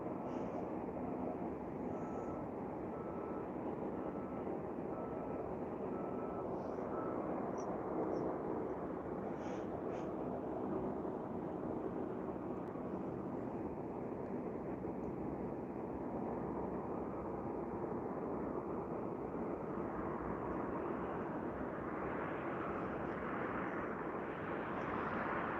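A distant airplane landing on runway 26 right at Vancouver International Airport, heard as a faint, steady engine rumble and wind-like hiss lasting throughout, with no speech.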